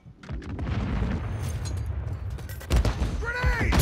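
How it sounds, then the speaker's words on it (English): A grenade explosion in Modern Warfare 3's Hyper Cranked mode lands amid busy gunfire, a loud broadband blast near the end that is followed by ringing, whistling tones, with shouted voices and combat noise running underneath. "Grenade!"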